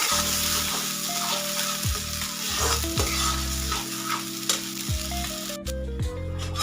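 Ground masala paste sautéing in hot oil for a rustic fig (umbar) bhaji, a steady close sizzle with scraping stirs at a regular pace and no talking.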